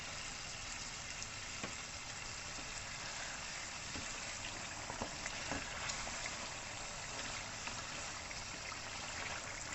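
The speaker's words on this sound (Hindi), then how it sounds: "हरी मिर्चों के साथ चिकन को 2 से 3 मिनट के लिए भूनेंगे" Chicken and green chillies fry in a karahi with an even, fairly faint sizzling hiss that continues steadily with light crackles and no voices.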